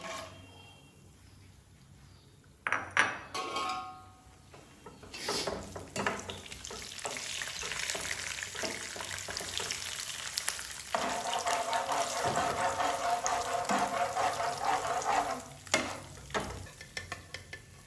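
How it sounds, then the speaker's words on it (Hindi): Cashews fry in hot ghee with a bright, rising sizzle that swells and crackles densely, broken early by clattering stirs and scrapes of a utensil against the pan, steady and close throughout. "घी गर्म हो चुका है, अब काजू इसमें डाल रहे हैं और उनको गोल्डन सा फ्राई करेंगे।"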